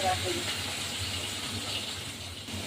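Small rohu fingerling fish hit hot oil in a pan that already holds onion and tomato, giving a steady, broad sizzling hiss that stays close and fairly loud.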